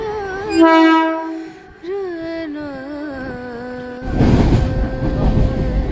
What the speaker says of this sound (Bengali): এই যে ঢুকে পড়েছে আমাদের ট্রেন